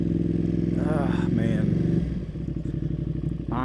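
A 2020 Ducati Panigale V2 motorcycle engine drones loud and steady up close, then drops to a lower, pulsing rumble as it settles, with a voice briefly heard over it.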